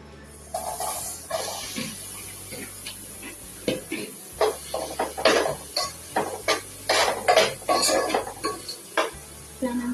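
Cooked chana dal going into a cooking pot, heard as a run of wet scrapes, knocks and stirring clatters of a utensil against the pot, close and rhythmic, with a faint background hum.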